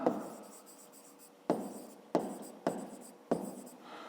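Pen strokes on paper while solving a fifth-grade math exercise, a run of four or five distinct scratchy strokes each starting with a sharp attack and trailing off, close and fairly quiet with no talk.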